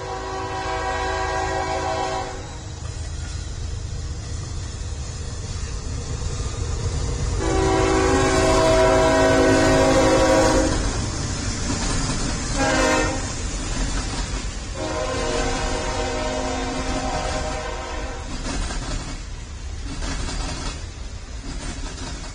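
A train rolls along in the intro of the Loco Shortline railroad game, with loud, sustained horn blasts sounding several times over the rumble and clatter of the cars, alone without talk.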